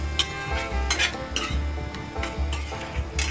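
Egg curry masala, cooked without oil, is stirred in a pan with repeated rhythmic scraping strokes of a utensil against metal over a low background hum, nearby and moderately loud.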